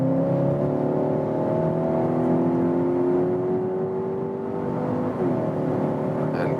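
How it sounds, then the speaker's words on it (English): Skoda Octavia vRS iV plug-in hybrid accelerating hard from 85 km/h, engine tone rising steadily under cabin road rumble, with a gearshift dip near the end. "From 85 kilometers an hour acceleration."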